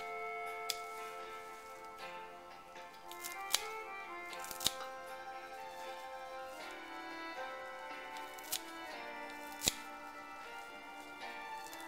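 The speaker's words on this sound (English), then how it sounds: "we're just going to cut it up with the scissors" Sharp snips of kitchen scissors cutting fresh thyme over vegetables for an Italian tiella casserole, scattered clicks at an irregular pace, close and fairly quiet, no one speaking.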